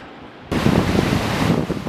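Ocean waves breaking: after a muffled half-second lead-in, a loud, sustained wash of surf and rushing wind noise rolls in and continues steadily, close and alone.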